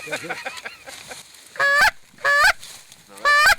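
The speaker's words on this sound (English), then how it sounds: "That's a goose call." A goose call is blown three times, each a loud, reedy honk, with softer bird-like squawks and faint voices between them.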